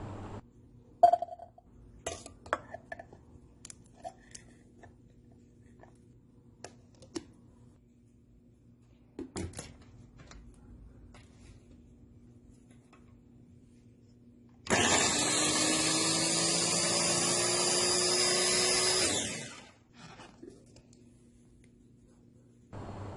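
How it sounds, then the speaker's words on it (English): A Ninja Food Chopper Express blender whirs loudly and steadily for about five seconds, its motor pitch rising slightly as it spins, preceded by scattered clicks and light handling noises in an otherwise quiet room. "Here's a quick clip of this blender in action."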